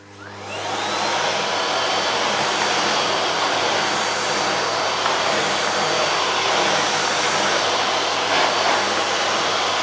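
Vacuum cleaner with an Electrolux electrostatic duster attachment sucking up flour from a floor, a loud steady whooshing motor drone that starts up and runs continuously, close by with no talking.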